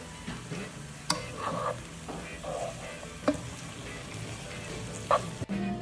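Eggs are stirred in a hot pan, with soft scraping strokes over a steady sizzle and a few sharp clinks of the utensil against the pan, heard close up.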